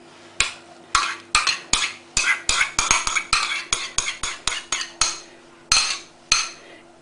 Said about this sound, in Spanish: En primer lugar vamos a mezclar los huevos con el azúcar y la mantequilla derretida.